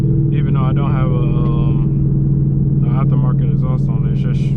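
A Ford Mustang with a ten-speed and straight pipes running from the headers idles with a deep, steady, loud rumble, while someone talks over it throughout.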